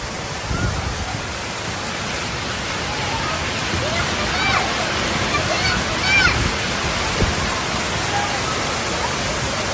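Flash flood water surging through a street in Jeddah during a storm, a loud, continuous broadband roar of rushing water, with excited voices exclaiming over it throughout.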